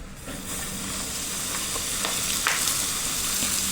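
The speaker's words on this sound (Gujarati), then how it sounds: "તેનાથી આપણો સરસ વઘાર થાય છે." Asafoetida hits hot, smoking oil as the tempering for a gunda pickle, giving a loud, steady close-up sizzle and hiss with faint crackles throughout.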